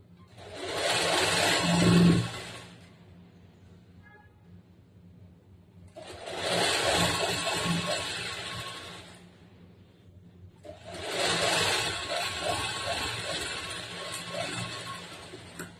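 Sewing machine stitching the side slit of a churidar, running in three sustained bursts of steady mechanical whirring separated by short pauses, close and fairly loud with no talking.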